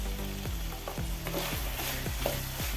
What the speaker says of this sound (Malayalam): നല്ലപോലെ ഒന്ന് മിക്സ് ചെയ്യാം